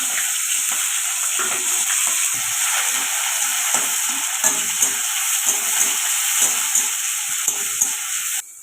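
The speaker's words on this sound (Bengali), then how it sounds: "তেলটা গরম হয়ে গেছে ডিমটা দিয়ে দিচ্ছি" An egg sizzles steadily in hot oil in a pan for a Bengali home-style dish, a close, continuous frying hiss with faint crackles throughout and no talking.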